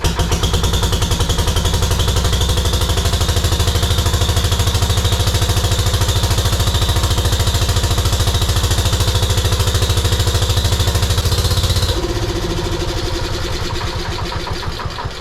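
A Wheel Horse garden tractor's small engine, started with the choke closed, runs loud and close with a fast, shaking, steady chug, then drops to a lighter idle near the end.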